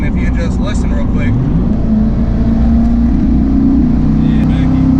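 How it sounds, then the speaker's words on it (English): Loud, low engine drone of an old straight-piped truck heard from inside while driving, with rough exhaust and tire noise and a voice talking over it. "it's a little straight piped and a little loud because of tires and it's old"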